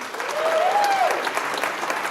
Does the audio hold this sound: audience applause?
yes